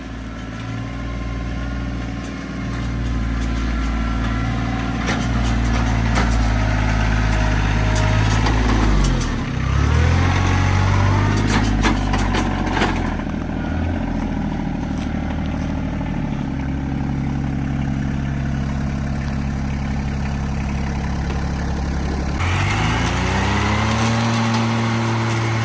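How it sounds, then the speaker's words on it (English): A Kubota RK25 compact tractor runs with a 60-inch mid-mount mower deck engaged, giving a loud, steady engine drone that surges briefly and then settles, close by with no talking. "all you do is push your PTO down here, turn it to the right, let go, pops up, mower will kick on"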